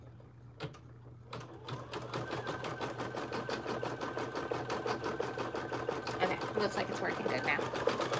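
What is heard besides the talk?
embroidery machine stitching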